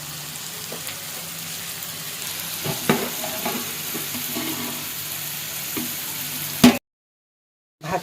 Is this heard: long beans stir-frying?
yes